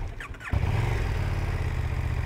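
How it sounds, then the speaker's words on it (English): A 2021 KTM 1290 Super Duke GT motorcycle starts up: a brief whirring starter crank, then the engine catches at half a second and settles into a loud, close, rumbling idle. "kita start motor enjin."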